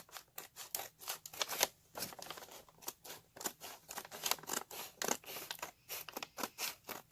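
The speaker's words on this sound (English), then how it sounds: "So you just need a pair of scissors to trim it." Close, crisp snipping of scissors cutting through a brown paper bag, a quick irregular series of cuts with short pauses, no voices.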